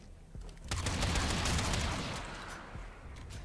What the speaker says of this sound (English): Each bullet, there's a lot of pellets coming out of this thing